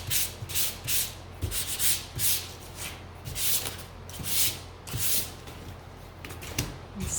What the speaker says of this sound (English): So we're gonna give this a light sand at first.